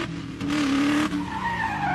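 Car in a film driving onto an unpaved road, its tires skidding with a sustained squeal over a steady engine roar, loud and close for about two seconds.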